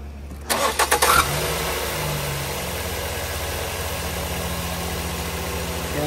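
A 2019 Ford Escape engine cranks with a quick burst of starter whirs, catches, and settles into a steady, close idle hum that continues to the end.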